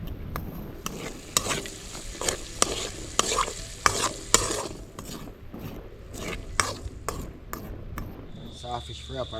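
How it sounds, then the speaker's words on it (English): Saltfish sizzles and fries in a pan while a utensil scrapes and stirs in sharp, irregular clatters, with faint talk in the background. "Saltfish fry up already"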